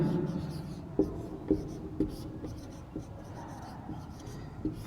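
Pen or chalk writing by hand during an English grammar lesson, with soft scratching and a steady series of taps roughly every half second, close by over faint room noise.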